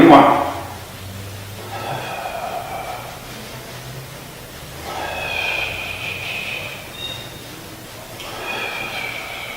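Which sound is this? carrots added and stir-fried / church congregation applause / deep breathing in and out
deep breathing in and out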